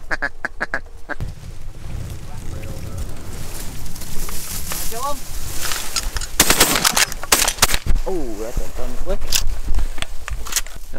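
Shotgun fire during a North Dakota duck hunt: several loud blasts crack out in a cluster amid quacking ducks and wingbeats, with hunters talking over the scene.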